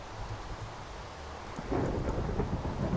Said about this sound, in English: Oh no, thunder!